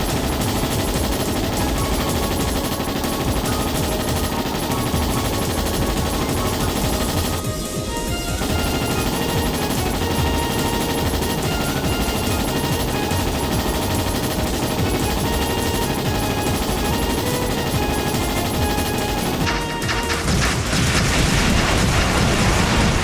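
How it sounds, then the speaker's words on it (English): Ship-mounted guns firing in the video game Trails in the Sky SC, a dense, loud, continuous barrage of rapid gunfire and booms layered with game music, briefly thinning before resuming and shifting near the end. "we have those guns on the very front of the ship that someone has to stand up there and shoot"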